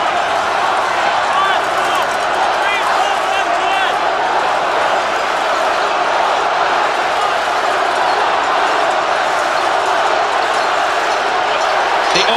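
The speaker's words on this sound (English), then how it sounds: "The Auckland crowd calling for their blue and white team, the champion Auckland team, to really get back into this match" Auckland rugby crowd in a Ranfurly Shield match against Waikato roaring and calling for their blue and white team, a loud sustained din of many voices.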